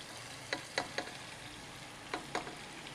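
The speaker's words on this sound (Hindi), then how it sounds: "यहाँ पर मैं जो है ना ये लहसुन डाल रही हूँ कुचला हुआ" Crushed garlic frying in oil in a pan makes faint, intermittent crackles and small pops spaced irregularly over a low background hiss, with no voices.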